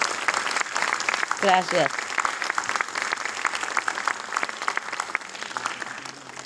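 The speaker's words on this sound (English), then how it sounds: "let's give another a resounding applause to congratulate" Audience applause at a book premiere for the Spanish edition of "The Dogs in My Life" fills the hall steadily and loudly throughout, with a voice briefly speaking over it early on.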